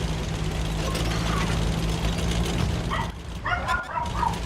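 A pet dog yips and whimpers a few times in a room, fairly near but not loud, over a steady engine-like hum from a tank game.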